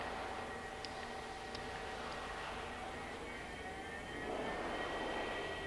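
Steady whirring hum of a Chevalier FSG-B818CNC surface grinder spindle spinning up, a quiet continuous machine drone with faint tonal whine that swells slightly louder near the end, no voices.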